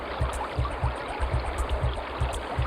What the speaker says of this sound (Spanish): El río estaba crecido, bravo.